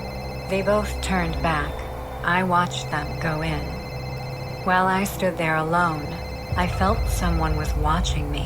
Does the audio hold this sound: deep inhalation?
no